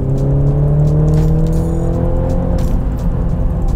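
A BMW Z4 roadster in Sport Plus mode accelerates with a loud, close engine note climbing steadily in pitch, a smooth rising drone without pauses or voices.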